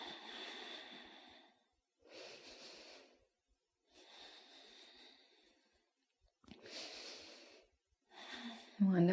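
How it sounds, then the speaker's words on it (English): Slow, deep yoga breathing, four long soft airy breaths in and out separated by quiet pauses, close and gentle, with a voice starting at the very end. "Nice big breaths in. Long and smooth breaths out."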